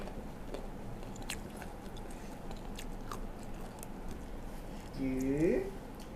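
Biting and chewing on spicy Thai chicken feet salad, soft crunchy bites close to the mic, with a louder crunchy burst near the end and a voice speaking briefly.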